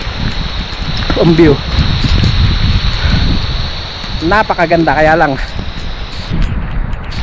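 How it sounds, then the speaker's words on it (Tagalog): Heavy rain pours on Mount Tagapo on Talim Island, a steady broadband hiss that runs through the whole clip, with people talking over it in the middle. "Malakas ang ulan eh."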